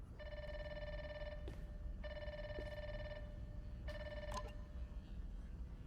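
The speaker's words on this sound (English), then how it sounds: "I don't know how to get rid of the ringing sound" A telephone rings inside a video game, three long electronic bursts with gaps between them, steady and clear over a low background hiss, with a few faint clicks.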